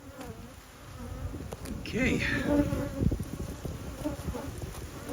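A swarm of bees buzzes close around a swarm trap in a dense, continuous hum that swells midway, with one brief spoken word.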